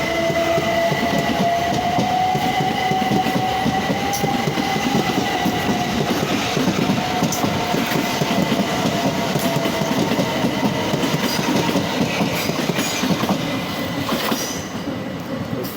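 Class 375 electric train at Sevenoaks station, rolling through with continuous wheel rumble, rhythmic clickety-clack and a drawn-out wheel squeal, loud and close throughout.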